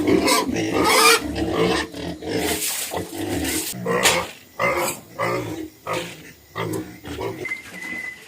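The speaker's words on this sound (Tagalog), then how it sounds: "Nahuman ako og pamahog sa baboy." Pig on a rural backyard farm grunting repeatedly at feeding time, a loud, close series of rough snorts and squeals in uneven bursts with no talk.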